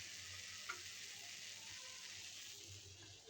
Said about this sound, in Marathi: अशा प्रकारे आपण सगळे पॅटीस मंद आचेवर भाजून घेणार आहोत